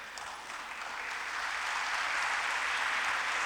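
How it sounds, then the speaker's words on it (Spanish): A lecture audience applauds steadily, the dense clapping swelling slightly louder and holding full for several seconds with no voices over it. "agradezco los aplausos porque entiendo que no se están aburriendo"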